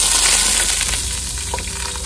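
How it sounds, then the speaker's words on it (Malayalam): Coconut pieces frying in hot coconut oil in a non-stick pan for a slow-cooked mutton curry, giving a loud steady sizzle with a few stirring scrapes and no talk. "അതിലേക്ക് കുറച്ച് തേങ്ങാക്കൊത്ത് ചേർത്ത് കൊടുക്കുക."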